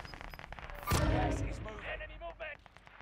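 Gunfire in a video game as enemies shoot down from a nearby tower: a sharp loud burst of shots followed by scattered, fading reports and clatter, with a player's voice talking over parts of it.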